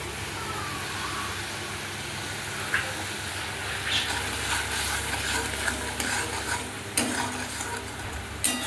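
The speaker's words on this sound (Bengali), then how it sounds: "মশলা জলটা একটু ভালো করে কষে নেব।" Spice paste for motor dal with fried potato being stirred and fried in a pan, a steady low sizzle running throughout with scraping stirs and a few sharper clinks near the end, no talking.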